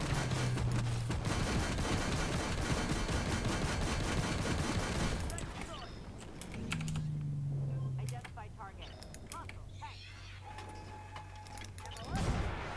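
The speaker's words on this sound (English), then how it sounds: "Look how fast the rockets fire." Rapid rocket fire from the Terminator tank in the video game Armored Warfare: a dense, fast volley of blasts filling the first half, then quieter engine rumble with scattered impacts and another burst at the end.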